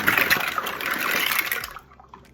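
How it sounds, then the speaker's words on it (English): Pasta shells tip into simmering bouillon water on a stove, a close, busy watery splash and rush that fades after about two seconds. "I'm gonna drop the shells in."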